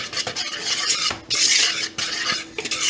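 Fry bread dry ingredients are whisked together in a bowl, producing bursts of scratchy, rhythmic scraping and swishing with short pauses between strokes, close and fairly loud, with no talking.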